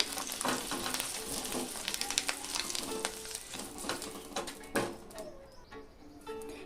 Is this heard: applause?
no